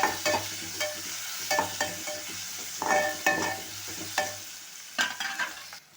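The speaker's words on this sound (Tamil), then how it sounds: "போட்டு நல்லா கிண்டி விட்டுக்குவோம்" Chicken pieces with turmeric powder stirred in a frying pan for pepper chicken, a soft sizzle under a series of spoon scrapes and clatters coming in irregular bursts, with no talking.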